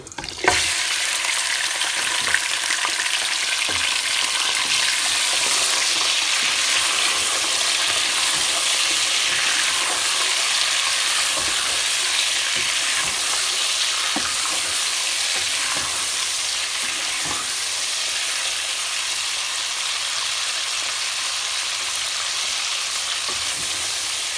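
Chicken sizzles steadily in a hot pan for Shahjahani korma, a dense crackling hiss that runs on without pause, with occasional soft stirring scrapes.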